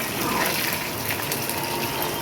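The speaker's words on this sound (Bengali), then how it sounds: "একটু ভেজে নেই।" Chicken pakora frying in hot oil, a steady, dense, loud sizzle and bubbling that holds evenly throughout, close by with no talk.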